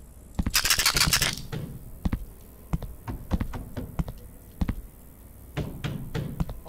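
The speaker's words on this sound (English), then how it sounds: "Oh god, somebody's knocking." Knocking on a door in the horror game Tattletail, a loud burst of rattling at the start followed by a long series of sharp, irregular single knocks, close and alone.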